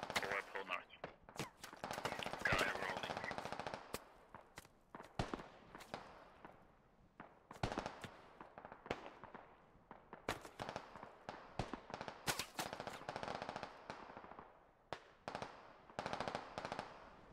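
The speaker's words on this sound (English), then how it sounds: "All those laser shots are going past you." Rapid bursts of video game gunfire and laser shots crack and stutter throughout a tactical military shooter match, dense and loud with short gaps, layered with faint voices.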